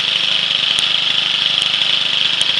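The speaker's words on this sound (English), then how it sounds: "Okay, so that's your little homemade 4-cycle" A homemade 4-cycle outboard engine of roughly half to one horsepower runs at a steady high-pitched buzzing drone, loud and close, with no break in its even note.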